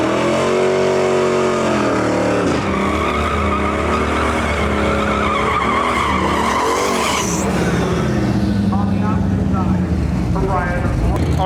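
Ford LTD wagon with a twin-turbo LS2 engine at a heavy metal class drag race, engine roaring loud and continuous alongside tire skidding, revs rising and dropping, with voices faintly under the din.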